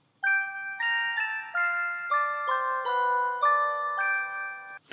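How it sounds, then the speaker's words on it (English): A synthesized bell in a future bass sound design, layered with a harmony a fifth above, plays a sequence of clear struck notes, each ringing with bright stacked overtones before the next one lands. "it almost sounds like the bell that you're hitting has those harmonics already inside it"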